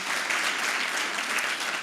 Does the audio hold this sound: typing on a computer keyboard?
no